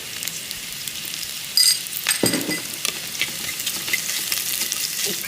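Curry leaves, green chillies and ginger-garlic paste sizzle steadily in a pan for a Kerala chicken curry, a close, even frying hiss with a few clinks of a stirring utensil and no talking.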